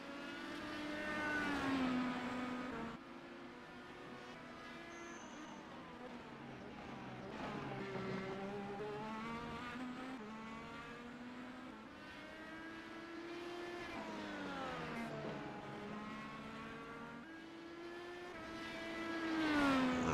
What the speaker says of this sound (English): We get our first car crossing the line